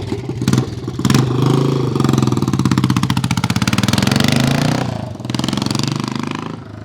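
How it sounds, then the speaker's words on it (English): A 1970 Triumph TR25W Trophy 250 single-cylinder motorcycle runs up close and loud, its steady thumping beat rising and settling as the revs change, with a short blip at the start and a brief dip near the end. "check out this Triumph Thumper TR25W Scrambler"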